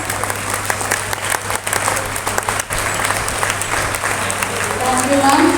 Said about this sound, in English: Let us show our appreciation with a round of applause.